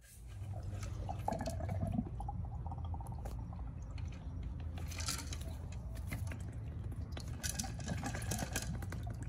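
Transmission fluid drains steadily out of a failed torque converter from a supercharged Mustang GT's 6R80 transmission. The trickle and dripping is close and continuous throughout, with no speech.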